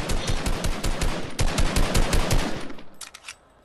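Rapid automatic gunfire in a squad-based shooter video game, a loud burst of close bullets in quick rhythmic succession lasting about three seconds, then a few scattered final shots before it cuts off.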